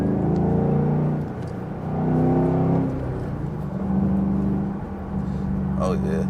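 A 2014 Ford Mustang GT500 with a 5.4 Trinity V8 accelerates hard through rising engine surges and gear changes, heard from inside the car, loud and close, with talk in places.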